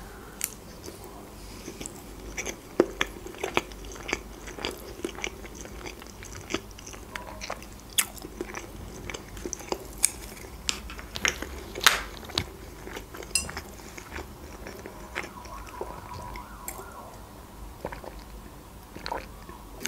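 Baked sushi rolls are bitten and chewed close to the mic in a mukbang setting, with soft wet crunches and clicks in an irregular rhythm, plus occasional cutlery taps, over quiet background.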